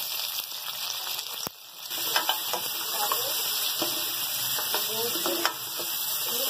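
Roasted goat mutton tipped into golden fried onions in a pot, a loud sustained sizzle with stirring scrapes and a brief dip as the meat lands.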